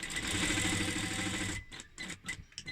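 A sewing machine runs a short steady stitching burst on a fabric face mask, close and moderately quiet, then stops and gives way to a few brief handling sounds.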